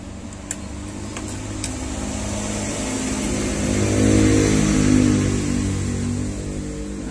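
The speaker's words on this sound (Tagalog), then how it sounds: "Medyo maingay po tayo dito ngayon kasi maraming sasakyan na daan." Steady roar of road traffic with many vehicles passing close by, swelling as a louder car goes past midway, with a couple of faint clicks near the start and no talk.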